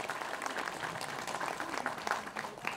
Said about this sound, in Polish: Brawa dla Józefa!